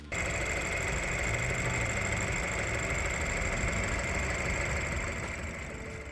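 A BMW N20 engine idles steadily and smoothly after replacement, a continuous even hum with a faint high whine, close by and without any talk.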